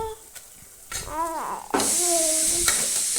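A mutton soup base with bay leaf powder is stirred in a pot, with scraping strokes of a spoon giving way to a loud, steady sizzle that rises partway through, up close and without talk.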